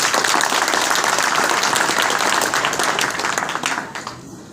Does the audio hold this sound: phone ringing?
no